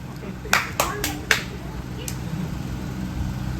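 Scattered hand claps from a small crowd at a local auction, a handful of sharp separate claps close by over low background chatter and murmuring voices.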